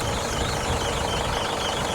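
A 2014 Isuzu D-Max diesel engine idles at close range, a steady dense rumble with a fine knocking texture and no pauses or voices over it.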